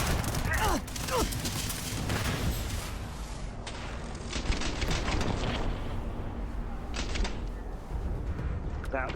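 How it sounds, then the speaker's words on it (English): A loud, rumbling explosion from the video game Shattered Space, with sharp crackling blasts up front, then a long roaring tail and scattered bangs fading out. "That was quite a cinematic explosion."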